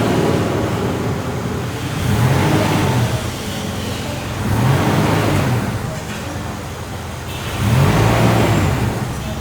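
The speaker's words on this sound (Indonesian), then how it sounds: "bagi kalian yang mau dengar suara mesinnya" A diesel car engine runs steadily with a broad, rushing noise, swelling and fading in three slow waves as it revs.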